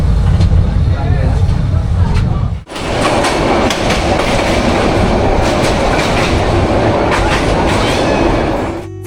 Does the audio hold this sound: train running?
yes